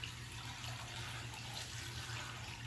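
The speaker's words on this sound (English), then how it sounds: "So I'm just going to dump water right in there." Water poured from a container into a cooking pan to make bone broth, a steady, soft, continuous splashing and rushing that runs alone throughout.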